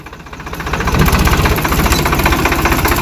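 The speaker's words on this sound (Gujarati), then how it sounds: "તો મિત્રો ટ્રેક્ટર પાછું પર રિવર્સ થાય" Tractor engine running as it reverses, a loud, steady mechanical rumble with a rapid pulsing knock that builds over the first second and then holds close and even.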